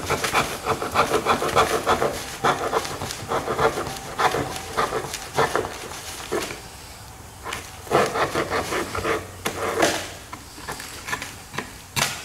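Insulation block about 8 by 8.5 inches being trimmed slightly to size, giving repeated rough rubbing and sawing strokes in a steady rhythm, close and moderately loud, with a short pause midway before the cutting resumes.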